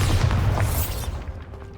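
A Bombarda spell going off in Hogwarts Legacy, one heavy booming blast with a rumbling tail that fades over about a second and a half, loud and close.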